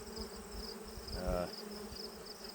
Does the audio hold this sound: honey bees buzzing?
yes